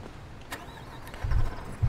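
A vehicle engine in the Cityconomy video game cranks and catches, a low rumble swelling after a faint click and holding near idle, then a second low surge close by, with no talk.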